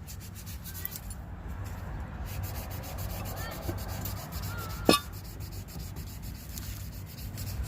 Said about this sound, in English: Now I got to do the crappy part of cleaning the rest of the grease off those heads over there